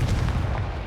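A Confringo blasting spell from Hogwarts Legacy erupts as a loud, deep, rumbling explosion, a single heavy boom that fills the whole short moment without any voice over it.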